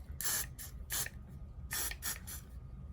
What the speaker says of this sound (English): you can spray those with some of the hairspray, like I just did